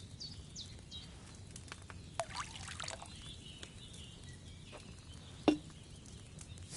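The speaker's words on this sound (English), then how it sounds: "So, what did you pour in there? Wine, of course." Wine poured from a pitcher in a video game, a faint, soft trickling pour over a quiet background with a few small clinks and taps.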